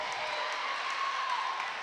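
A crowd at a high school volleyball match in a gym, CHS against Spaulding, keeps up a steady noisy din of murmur and cheering throughout the brief moment.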